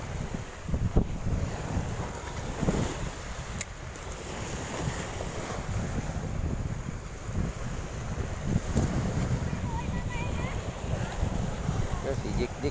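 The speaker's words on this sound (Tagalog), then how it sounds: "Medyo malakas na hangin." Strong wind on the sea off Atimonan, Quezon during a fishing trip, roaring continuously into the microphone with wave and water noise underneath, loud and steady throughout.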